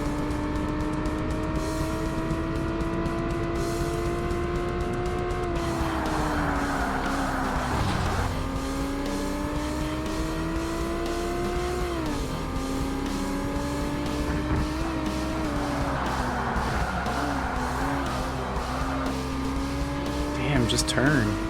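Race car engine in the Forza Motorsport game, a steady, loud drone that rises and falls with shifts and acceleration, with occasional tire squeal, while a voice talks over it.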